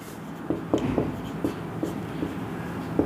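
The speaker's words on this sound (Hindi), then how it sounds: "तो यहाँ पर हम लिखते हैं" A pen writes on paper, scratching out a series of short strokes with brief pauses between them, close and fairly quiet, with no talking.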